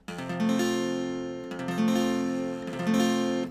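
An F barre chord is strummed three times on guitar, each strum ringing out fully and decaying slightly before the next, clear and close.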